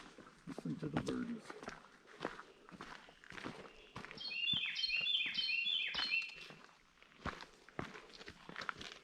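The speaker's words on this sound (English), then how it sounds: "Listen to the birds." Birds chirp and sing in short bursts on a forest hike to Hemmed In Hollow Falls, mid-distance and fairly faint, over steady crunching footsteps on the trail.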